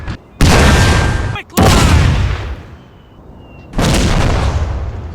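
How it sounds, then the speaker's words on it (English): Heavy cannon blasts from an artillery duel at the First Battle of Bull Run, recreated in a Total War game: three loud booming shots with long rumbling tails, spaced about a second or two apart, with no talk over them. "Their 11 guns engaged in a fierce artillery duel across 300 yards against Jackson's 13."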